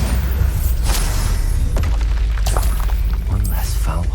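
Bombarda explosion spell cast in Hogwarts Legacy, a dense run of booming blasts and crashing impacts amid combat sounds, loud and continuous, with a voice shouting over it.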